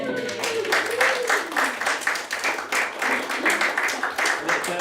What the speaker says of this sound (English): congratulations and a little round of applause, I think, are in order for Councillor Martin Dorey